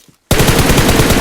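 Rapid automatic gunfire from the video game PUBG breaks out after a brief silence and keeps going as a dense, loud, steady stream of shots.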